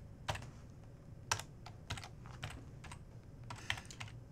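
Keys tap on a computer keyboard in short, irregular bursts, soft and close, with gaps between clusters of keystrokes and no talking.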